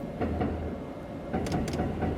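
Commuter train in the Densha de Go! Yamanote Line arcade game, a low rumbling run with rhythmic clatter and a few brief metallic hisses, steady and close.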